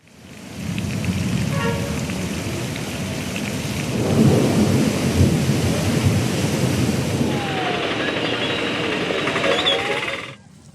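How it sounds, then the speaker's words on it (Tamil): Steady heavy rain during a storm in Tamil Nadu, with thunder rumbling and swelling in the middle and a brighter hiss of rain toward the end, continuous and fairly loud throughout. "தமிழகத்தில் பரவலாக மழை பெய்து வருகிறது"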